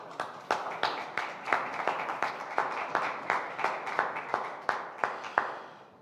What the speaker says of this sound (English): I guess this is worth a big round of applause here from the floor.